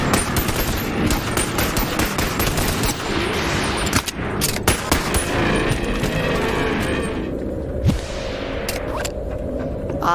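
Rapid bursts of video-game gunfire from the VR shooter Bonelab in a museum level, loud and close, with dense automatic volleys, short pauses and a few single cracks across the span.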